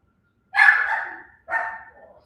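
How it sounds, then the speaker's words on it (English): Two loud, close dog barks in quick succession, the first longer, the second trailing off, with silence before them. "You hear him barking?"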